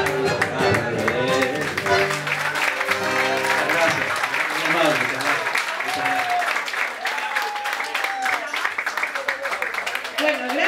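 Audience applause follows a tango singer's performance, a steady burst of clapping over lingering music and voices throughout.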